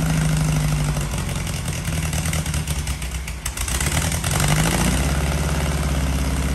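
A Volkswagen Baja Beetle's air-cooled engine runs steadily at a loud, close idle after repair, a throaty low rumble with faint mechanical clatter and a slight dip in revs midway.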